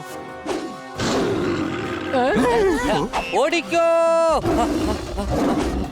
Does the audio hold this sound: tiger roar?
yes